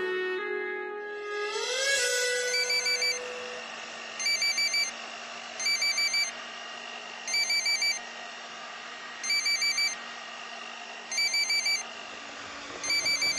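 An electronic phone ringtone in a Marathi TV serial household scene, repeating in regular bursts about every second and a half over a steady background tone, fairly loud with no talk.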